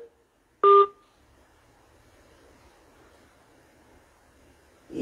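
A single short dual-tone keypad beep sounds during a phone-in call on a broadcast. It is followed by a few seconds of faint telephone line hiss before another sound begins at the end.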